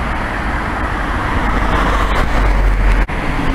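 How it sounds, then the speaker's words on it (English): Steady roar of road traffic passing close by on a street in Chester-le-Street, with vehicles rumbling continuously and loudly throughout, no talking. "Sorry about the traffic."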